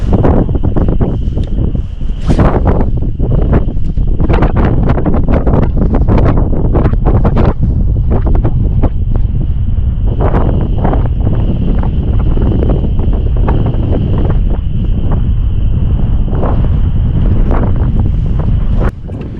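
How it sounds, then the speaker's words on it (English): Loud, buffeting wind of about 15 mph sustained with gusts into the 30s roars continuously across the microphone in late winter, rising in rough gusts with a faint steady whine above it. "It's 15 mile an hour sustained winds right now with the gusts up into the 30s"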